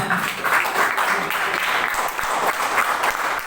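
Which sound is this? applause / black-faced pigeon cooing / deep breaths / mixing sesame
applause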